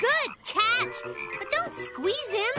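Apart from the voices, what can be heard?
cartoon frog croaking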